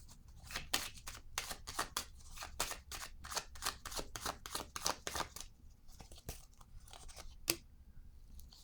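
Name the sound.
placing a card down on the table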